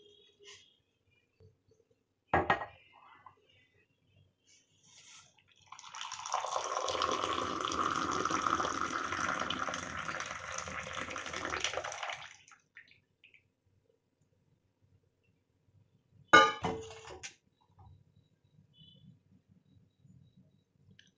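Boiled cinnamon water poured through a strainer, a steady trickling pour of about six seconds with brief clinks of utensils before and after, close and moderately loud, with no talk.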